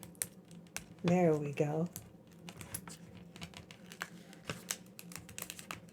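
A top layer is peeled off a printable vinyl sticker sheet, giving soft crinkles and sharp little clicks and ticks, with a brief spoken remark partway through.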